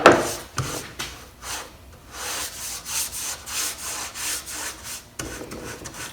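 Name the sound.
rubbing clear wax onto wooden cabinet doors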